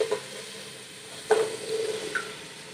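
Boiled chickpeas tipped into a pan of softened tomatoes set off a soft, steady sizzle, with a sharper burst of frying and stirring midway.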